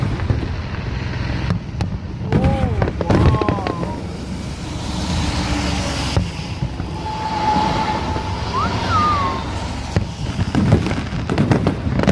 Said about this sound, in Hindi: ये देखें जी, बड़ी प्यारी आतिशबाजी हो रही है।